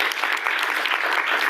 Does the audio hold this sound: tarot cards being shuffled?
no